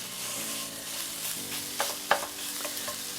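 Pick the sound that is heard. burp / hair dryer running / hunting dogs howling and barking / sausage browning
sausage browning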